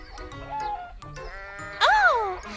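A single loud, wavering goat bleat rises near the end, after a stretch of quieter background sounds.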